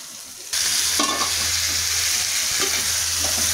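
Chicken being stirred and mixed in a pot, spoon scraping through sizzling pieces over a steady, close frying hiss with a few brief louder scrapes.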